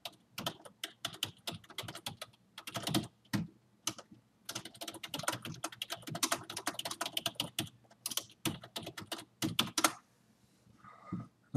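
Typing a field name on a computer keyboard, quick bursts of crisp key clicks separated by short pauses, close and fairly quiet, ending with a few scattered taps.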